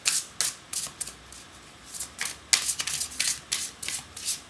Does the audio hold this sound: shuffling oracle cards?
yes